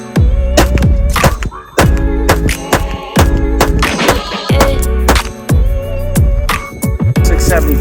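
Rapid pistol shots from a compensated Staccato XC with a red-dot SRO sight during a shooting drill, loud sharp reports fired in quick irregular bursts, close to the recording, with no talk.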